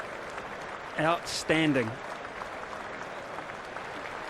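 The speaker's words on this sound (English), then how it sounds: "South Africa are getting a great round of applause from the members" Members' applause for the South Africa cricket team during the World Test Championship final against Australia, steady, moderately distant clapping across the whole stretch, with someone speaking briefly over it.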